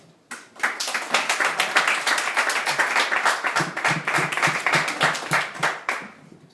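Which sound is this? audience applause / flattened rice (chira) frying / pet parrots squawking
audience applause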